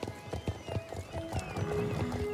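Horse hooves trotting in the video game Star Stable Online, a steady clip-clop rhythm close up, with faint game music tones and a voice talking quietly underneath.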